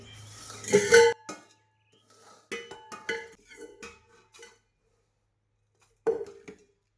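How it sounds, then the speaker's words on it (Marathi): Sweet karanji stuffing is spooned into a steel container, sparse close metallic clinks and taps of spoon on the vessel, several light knocks spaced out over a quiet background. "आता डब्यामध्ये सारण भरून घेते"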